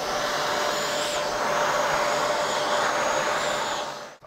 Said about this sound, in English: You want to vacuum it.